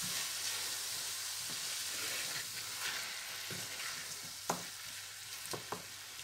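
Onions and tomatoes for bhindi fry sizzle in a pan, a steady bright hiss with a few sharp clicks of stirring near the end, and no voices.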